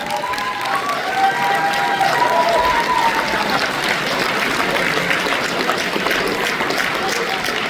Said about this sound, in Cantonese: 家俾啲掌聲啊！